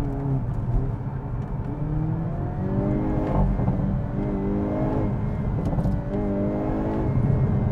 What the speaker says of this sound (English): It's a symphony of exhaust notes.